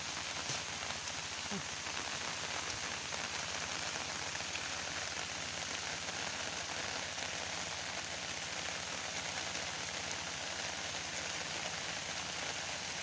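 Rain falls steadily and evenly on surfaces, a dense, unbroken hiss that continues throughout with no voices.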